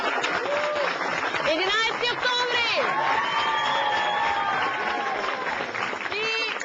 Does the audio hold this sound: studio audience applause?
yes